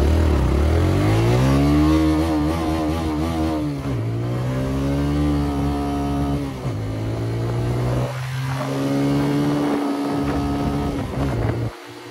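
A TVS Raider 125cc motorcycle engine revs up repeatedly at top speed, pitch climbing through gear changes, loud and close with wind noise.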